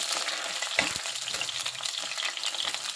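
A large tomato sizzles and crackles steadily as it is sautéed in a hot pan for a Kerala-style fish curry, with an occasional stirring scrape. The sound is close, continuous and moderately loud, with no talking.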